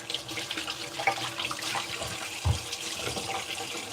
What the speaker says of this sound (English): let me wash my hands a minute